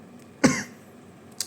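A single close, sharp human cough, followed by a brief faint breathy sound, otherwise quiet.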